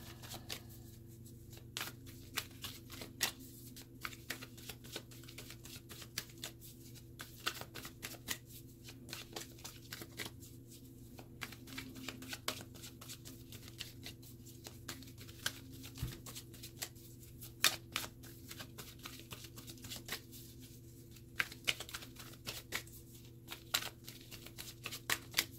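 A deck of oracle cards being shuffled over and over, a soft, continuous riffle and slide of card stock close by, with no talking.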